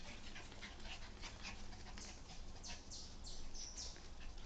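A Labrador dog pants rapidly and whimpers in short high whines close by, with some bird chirps faintly in the background.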